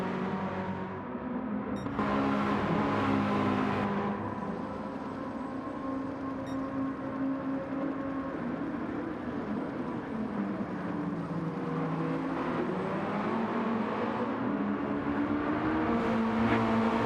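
Mazda Roadster race cars racing in a video game, a steady, droning engine note rising and falling in pitch as the cars accelerate and shift, continuous and fairly loud throughout.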